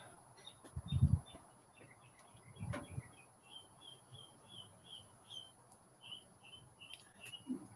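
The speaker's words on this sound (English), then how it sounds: "So I got one of the birds. If you can hear them, they're giving me their 2 cents." Small birds chirp outdoors in a quick, repeated series of faint tweets, with a few soft thumps and low background noise around them.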